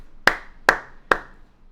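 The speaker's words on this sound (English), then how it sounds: "That one gets a clap." Three sharp, evenly spaced hand claps ring out close by, with nothing else in between.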